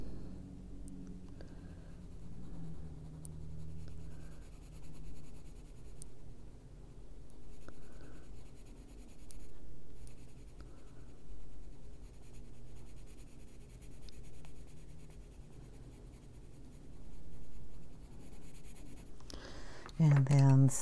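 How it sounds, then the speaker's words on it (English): Colored pencil strokes on paper, Persian blue and dark indigo, a soft continuous scratching and scribbling that runs close and quiet throughout, with a person speaking over it at times. "Okay, then we'll just take some pencil in there."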